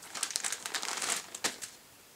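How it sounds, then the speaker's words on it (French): Plastic packaging around a pair of thin socks crinkled and pulled open close by, soft rustling and crackling for under two seconds before fading out. "je vais vous le déballer"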